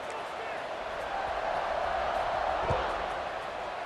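A stadium crowd in the College Football 26 video game keeps up a steady roar, with a commentator's voice talking over the noise.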